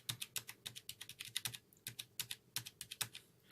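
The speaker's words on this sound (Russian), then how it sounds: "Вот, свечи у нас коричневые. Вот так они звучат, без кейп-капов." Bare Cherry MX Brown switches on a Kingston HyperX Alloy Elite gaming keyboard are typed on without keycaps, giving a close, quick series of sharp clicky taps in an uneven rhythm.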